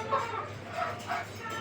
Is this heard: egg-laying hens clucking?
yes